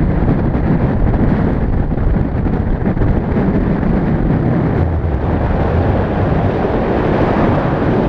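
Wind buffeting the microphone while road cycling on a windy stretch between Beachmont and the Mount Tamborine climb, a loud, steady roar filling the whole stretch with no voices.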